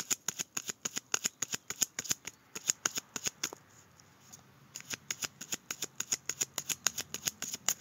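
A deck of tarot cards being cut and shuffled, with a fast run of crisp riffling snaps, a short quieter pause in the middle, then another steady burst of card flicks, close and clear with no voice.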